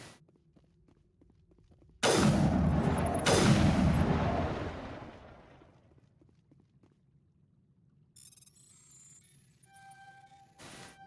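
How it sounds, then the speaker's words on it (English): Two heavy gunshot bursts boom close together in a Mass Effect gunfight, each trailing off into a long fading rumble, followed by faint electronic beeps and chirps. "In the middle of a gunfight, but still got time to hack into the box"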